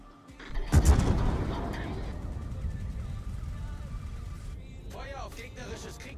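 Battleship main guns fire in World of Warships with a heavy booming salvo that rolls into a long low rumble, while game effects chirp later and a voice talks over the sound.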